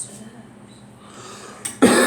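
A girl coughs once, sharply and close, after a quiet stretch of faint background noise.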